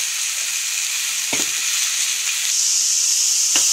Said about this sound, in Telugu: ఇప్పుడు ఇది ఫ్రై అయిపోయింది కదా, మన చుక్కకూరని వేసేసుకుందాం